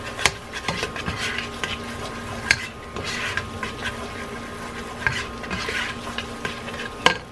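Onions frying with a pinch of dried basil being stirred in a pan, a steady close sizzle broken by scraping spoon strokes and occasional sharp clinks against the pot, with no talking.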